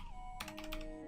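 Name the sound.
typing on a computer keyboard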